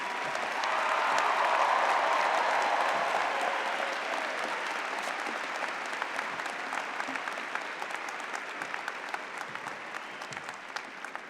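Sustained applause from a large commencement audience fills the space, loud and steady at first, then easing slightly while scattered claps continue; no talking is heard over it.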